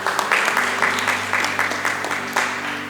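Church congregation applauding during a Sunday worship service, steady dense clapping from a crowd filling the room, with a low sustained hum underneath.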